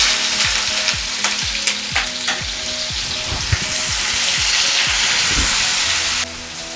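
Three medium onions frying in hot oil for dhaba-style paneer masala, a loud close sizzle with regular scraping strokes of a spoon against the pan, steady until a quieter hiss near the end.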